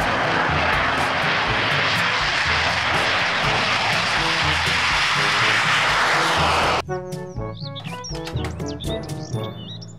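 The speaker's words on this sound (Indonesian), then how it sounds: "Pesawat jet tempur." A fighter jet engine roars loudly and continuously, then cuts off abruptly, leaving birds chirping and tweeting close by.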